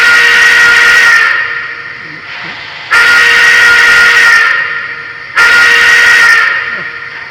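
A 2-8-2 Heavy Mikado steam locomotive sounds its whistle three times, each a loud, steady, hissing blast a second or two long, with quieter steam hiss between them.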